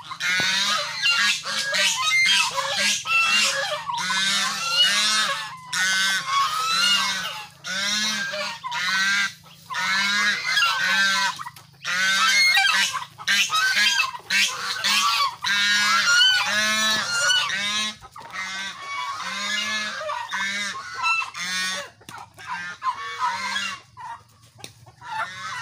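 Ducks honk and quack loudly and steadily on a backyard poultry setup, many calls overlapping in quick repeated bursts from close by, with a low rhythmic hum running underneath.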